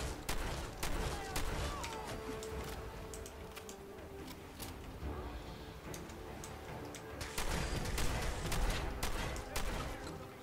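Shotgun fire in the Fallout video game, a rapid series of sharp bursts and cracks over steady background game noise, with a denser flurry near the end.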